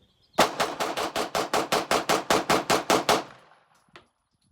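Beretta 92S pistol firing a rapid string of about fourteen loud, close shots in even rhythm, followed after a pause by a single fainter crack.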